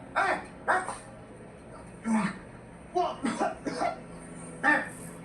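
A series of sharp, harsh coughs, one at a time and then in a quick cluster, fairly close, with short pauses between them.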